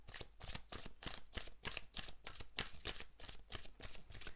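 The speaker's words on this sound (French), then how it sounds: "on tire une dernière carte" Tarot cards shuffled and drawn for a final pick, giving a rapid, steady run of crisp papery flicks, close and fairly quiet, with no talking over them.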